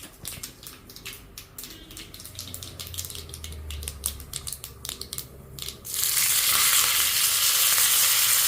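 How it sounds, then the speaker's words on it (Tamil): Mustard seeds, fenugreek and curry leaves tempering in hot oil for Thanjavur-style sambar: scattered sharp pops and crackles, then a loud, steady, close sizzle that fills the last few seconds. "இப்போ கடுகு, வெந்தயம், கருவேப்பிலை போட்டு தாளிக்கிறேன்."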